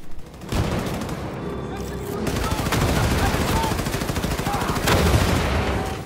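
Grenade blasts and bursts of rapid gunfire from the video game Wolfenstein II: The New Colossus pound on continuously with heavy booms, while someone talks over the action.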